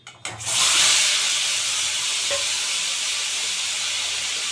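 Ripe mangoes with salt hit a hot pan and break into a loud, steady frying sizzle that holds close and even after a brief clatter at the start, with no talk.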